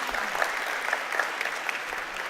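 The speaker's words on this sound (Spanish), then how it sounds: "así es que otro aplauso para Cocote" Audience at a film panel on national cinema and economy in Panama applauds steadily, a dense even wash of many hands clapping throughout with no voices over it.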